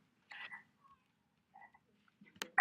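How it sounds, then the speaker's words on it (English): Short croaking sound effects from an Etoys car tile, a few brief quiet croaks separated by silence, ending with a louder burst. "make a croaking noise"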